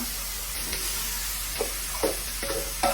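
Bitter gourd (ampalaya) stir-fries in a pan with a steady, close sizzling hiss, broken by a few soft clinks and scrapes of the spatula.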